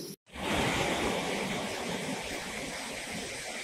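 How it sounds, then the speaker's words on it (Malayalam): Dhoni waterfall in Palakkad, Kerala, during the monsoon: a steady, full roar of falling water that starts after a brief gap and then holds a dense, even rush with no talking over it. "ഇതാണ് ധോണി വെള്ളച്ചാട്ടം"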